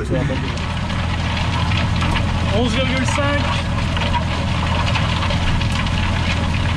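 A tractor engine runs steadily while pulling a fast disc harrow across a field in 2022, with rattling and clanking from the rough ride, continuous and fairly near, and someone talking over it.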